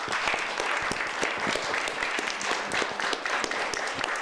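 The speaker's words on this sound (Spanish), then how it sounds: "les pido un aplauso" Audience applause at a legal-deposit panel discussion in Mexico, a continuous crackling patter of many hands, moderately close and even in level for the full stretch.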